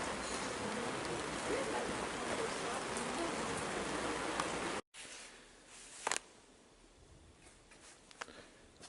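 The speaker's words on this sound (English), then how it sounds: "We didn't just come in here because it's raining outside" Steady rain falls outside near a church with gargoyles in Josselin or Pontivy, a dense continuous hiss that stops abruptly partway through, leaving a quieter interior with faint scattered ticks and a brief sharp knock.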